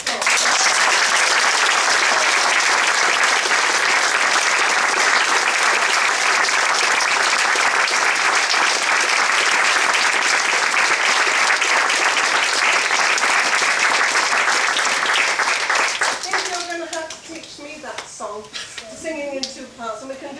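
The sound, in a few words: audience of children applauding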